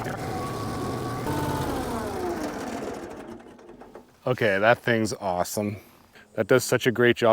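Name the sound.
Toro Sand Pro machine smoothing backyard golf green sand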